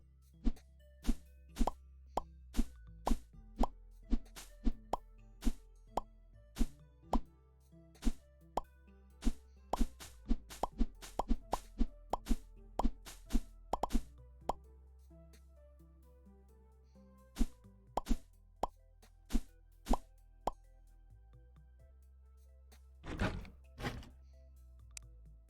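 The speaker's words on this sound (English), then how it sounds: "I gotta rip out all these fire moons and get some different crops in" Fire moon crops being pulled up one after another in the farming game Necesse, a long run of short soft pops in quick irregular bursts with brief pauses, crisp and close, no talk.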